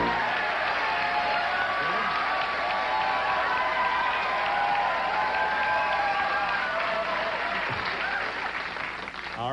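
Studio audience applause mixed with cheering and whoops on a 1980s late-night talk show, a loud, steady, dense roar that fills the whole stretch and thins slightly at the end.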